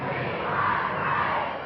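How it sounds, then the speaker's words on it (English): A wrestling crowd chanting "we want Brian" fills the arena, loud and sustained for under two seconds, a dense mass of voices swelling slightly in the middle with no single speaker standing out. "Crowd chanting now, we want Brian."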